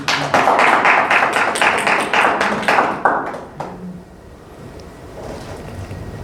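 A congregation at a church sermon breaks into rhythmic applause, a dense run of close, sharp claps lasting about three seconds before fading into room hiss.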